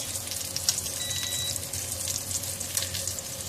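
Pieces of pork belly fry in a pan with a steady, continuous sizzle and crackle, close and even throughout with faint spitting pops, and no one speaking.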